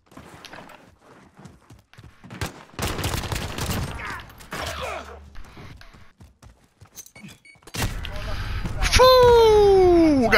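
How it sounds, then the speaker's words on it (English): Call of Duty Modern Warfare gameplay with a laser beam gun: bursts of rapid gunfire and scattered shots come in clusters amid quieter stretches, ending in loud, sustained firing with a rising, whining electronic tone. "I like shooting people with my laser beam gun."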